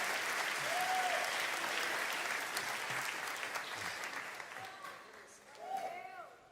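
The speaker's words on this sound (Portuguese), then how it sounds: "Alguém pode aplaudir o Senhor aqui nesse dia?" Applause from a church congregation at a sermon on the Book of Acts, a dense wash of clapping that fades gradually, with a few raised voices calling out over it near the end.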